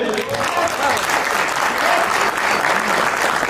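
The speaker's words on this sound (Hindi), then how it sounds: "जबरदस्त तालियां हो जाए." Dense, steady applause from an audience at a token launch event in Jaipur fills the clip, loud and continuous from start to finish.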